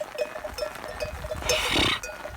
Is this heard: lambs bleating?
yes